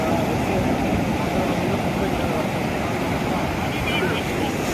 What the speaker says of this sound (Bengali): কি সুন্দর লাগতেছে ঢেউটা, মানে হ্যাঁ কি গর্জন।